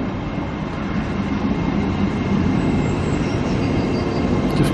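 East Coast Main Line train bound for Edinburgh pulling into Berwick-upon-Tweed station, heard from aboard as a steady loud rumble of wheels and carriage noise without speech.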